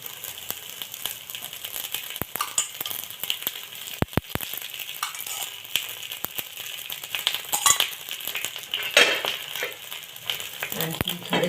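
Pumpkin appe fry in oil in an appe pan, giving a crackling, fluctuating sizzle up close, punctuated by sharp clicks and taps of a utensil against the pan.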